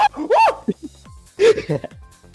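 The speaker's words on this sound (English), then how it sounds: "It's my dog" A pet dog barks and yips in a few short bursts close by, amid a streamer's lively commentary; talk runs around and between the barks.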